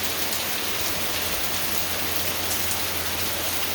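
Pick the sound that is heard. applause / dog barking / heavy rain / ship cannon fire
heavy rain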